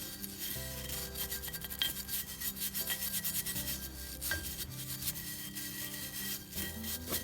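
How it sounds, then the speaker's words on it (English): A small brush scrapes carbon buildup off the valves of a Kohler Magnum M-20QS engine head in quick, rhythmic rasping strokes, close and fairly loud, with a few brief pauses between passes. "Took quite a bit of scraping"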